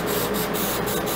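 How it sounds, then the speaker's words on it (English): Anti-spatter spray hisses from an aerosol can onto the tip of a welding gun, one steady, close, fairly loud burst. "I just spray it and it keeps all that stuff from building up."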